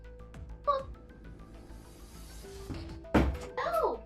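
A pet cat named Sully meowing loudly indoors, several separate meows including a long drawn-out wail near the end, with quiet thumps and low background noise between calls.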